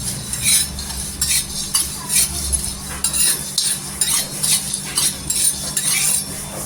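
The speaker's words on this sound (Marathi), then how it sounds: "हे आहे ना छान असं तव्यावर भाजून घ्यायचं." Whole spices dry-roasting on a hot griddle for a homemade masala blend, stirred with a utensil that scrapes and clinks steadily in repeated strokes over a low constant hum, close and moderately loud.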